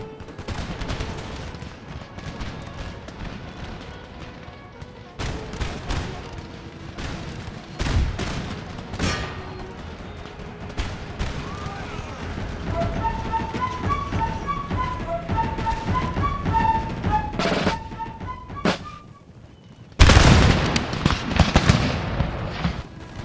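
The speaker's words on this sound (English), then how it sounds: "Some poor panicked shots from the Spanish right there." Scattered musket volleys from Spanish line infantry in Empire: Total War crackle through a battlefield din, with irregular sharp shots and bursts spread across the scene and a loud close blast near the end.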